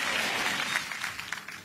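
A church congregation claps during a sermon, a dense, steady burst of many hands that stays fairly even before easing slightly toward the end, with no voices over it.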